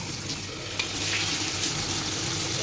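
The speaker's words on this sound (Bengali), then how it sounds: "মাংসটা রেখে দিলাম, কষতে থাকো।" Meat sizzles as it is stir-fried (kosha) in a pan, a dense, steady frying hiss with a small clatter near the start, close and fairly loud, no clear talking.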